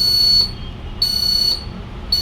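A shrill electronic alarm beeps in long pulses, three of them, loud and close against a background hum.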